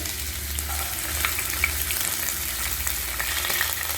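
Dried red chillies, ginger and garlic cloves frying in hot oil with urad dal for rava kichadi, a steady close crackling sizzle with a few sharper pops, no voices.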